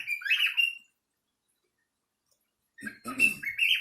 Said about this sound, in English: I'm trying to let my bird kind of settle down a little bit